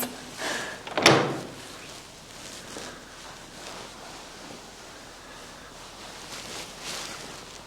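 A locked wooden church door in the Norfolk Broads is tried, giving one sharp, loud thunk and rattle near the start, then a quiet room with faint shuffling.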